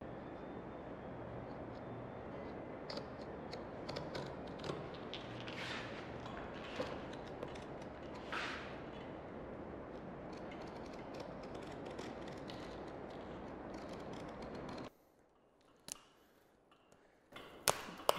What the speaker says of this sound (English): it is raining really hard outside